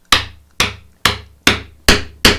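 A mallet drives a wood chisel held vertically to cut a clean dovetail shoulder: six loud, close, evenly spaced sharp taps, each with a quick decay, and no talking.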